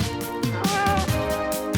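A cat meows in a short series of nasal, harmonic calls, fairly close and clear, over a steady background bed.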